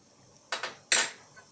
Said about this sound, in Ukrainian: Тепер накладаю перець в просталізовані баночки.